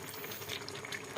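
Pakbet, an Ilocano vegetable stew, simmers in its broth with a faint, steady bubbling that lasts about a second, then ends in a brief louder knock.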